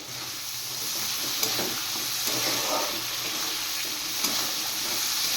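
Spices and tomato frying in oil in a pan for an amudi fish curry, a continuous bright sizzle with a few soft scrapes of stirring. No one speaks.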